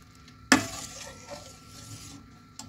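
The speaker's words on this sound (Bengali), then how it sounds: "এইভাবে আমি সমানে চালাতে হবে হাতটা, যাতে না তলাটা ধরে যায়।" A spoon stirs milk and chhana simmering in a pot for payesh, opening with a sharp metallic clink against the pot, then soft, uneven scraping and swirling, with another light clink at the end.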